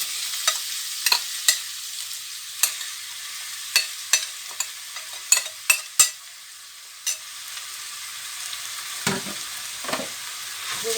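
Minced meat fries in a pan as a spoon stirs it, with a steady hiss of sizzling and a series of distinct scraping knocks against the pan, close and fairly loud.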